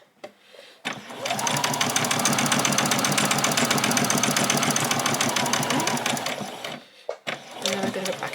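A sewing machine back stitches along the placket of a doll's dress, a loud close burst of rapid needle chatter running for several seconds, with brief quieter pauses before and after.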